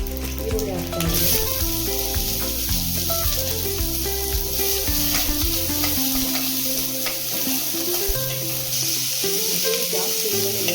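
Onion and garlic fry with curry leaves in a pan for red chilli tamarind chutney, a continuous sizzle with stirring under loud backing music that plays throughout.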